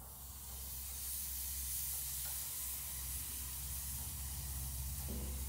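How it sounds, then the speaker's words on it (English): Steak laid on a very hot grill sizzles in a steady, dense hiss that rises quickly and holds close and even throughout, with no voices. "You can hear that sizzle coming off there."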